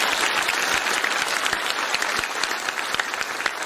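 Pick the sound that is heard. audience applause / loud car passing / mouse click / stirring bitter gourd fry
audience applause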